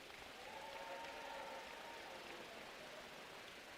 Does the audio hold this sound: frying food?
no